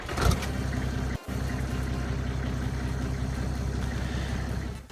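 A TLX2020 tractor with a 4.2 engine idles in Farming Simulator 22, a steady low droning rumble with a regular pulse, broken once by a very brief dropout.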